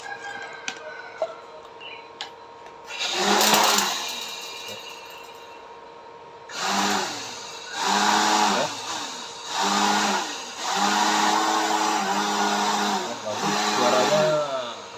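A homemade blower built from a salvaged dynamo motor runs in bursts, its whirring hum rising and falling in several separate surges that start and stop, loud and close, with a quieter mechanical drone between runs.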